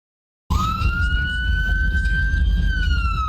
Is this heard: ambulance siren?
yes